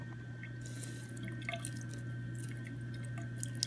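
Water drips from lab glassware during rinsing after diluting acid, giving a few faint, scattered drips and splashes over a steady low hum of room noise.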